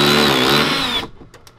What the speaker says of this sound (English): we got the hole drilled and we got the button in, the switch in